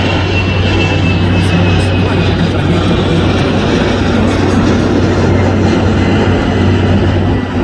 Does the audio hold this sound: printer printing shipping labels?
no